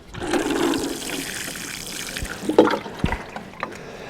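Water poured onto newly planted Encore raspberry canes, trickling and splashing as it drains quickly into loose, well-draining soil, a steady close rush with a few louder splashes near the end, no talking.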